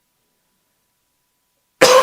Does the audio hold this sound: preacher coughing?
yes